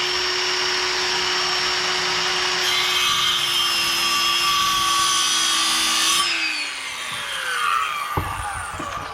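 Power saw starting a notch cut in wood while framing a bath house, a steady loud whine with rising cutting noise, then the motor winding down near the end with a few sharp knocks.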